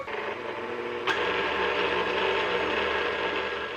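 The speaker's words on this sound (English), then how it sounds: "I'm going to put the dough hook on my KitchenAid, and I'm going to mix this until the dough is coming off from around the" A KitchenAid stand mixer with its dough hook works bread dough, giving a steady mechanical whirring and gear grind close by, with a brief click near the start and a constant motor hum throughout.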